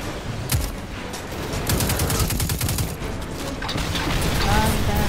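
Rapid gunfire from enemy AI in the video game Destiny 2, a dense continuous barrage of overlapping shots and bursts, loud and close throughout.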